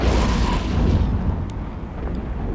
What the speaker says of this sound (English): They did use the long range artillery cannons, I believe, based on the effect that I had seen coming from the ship